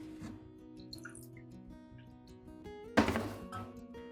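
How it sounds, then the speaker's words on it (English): Fertilizer solution for orchids is poured into a small cup, a soft liquid trickle under steady background music, with a brief louder splash near the end. "Pour the solution into a small cup."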